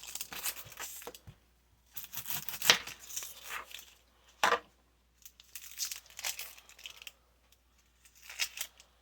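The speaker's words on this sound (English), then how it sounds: "I lined my pan with parchment paper. And to get it to stick, all you do is crumple it up." Parchment paper crinkles and crackles loudly up close as it is crumpled by hand for lining a baking pan, in several bursts of scrunching separated by short quiet gaps.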